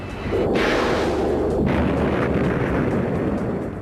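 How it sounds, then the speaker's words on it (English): The A-10 aircraft's gun fires in a loud, sustained roaring burst, a dense continuous rasp that starts abruptly and holds for several seconds with a couple of sharp surges. "the #1 weapon of choice of an A-10 pilot is going to be their gun"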